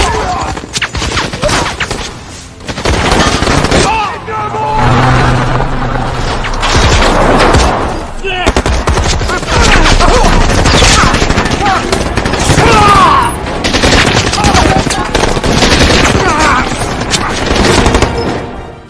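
A film battle scene with Taliban fighters attacking across a field: loud, dense bursts of automatic gunfire and booming explosions, with near-continuous rapid shots and brief lulls, up close and intense under an action soundtrack.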